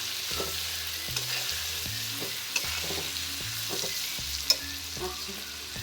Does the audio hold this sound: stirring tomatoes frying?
yes